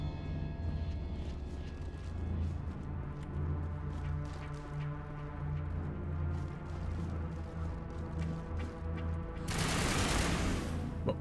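Gunfire in the game Mass Effect, rapid sharp shots over a low droning hum, ending in a louder burst of explosive noise, with no talk heard.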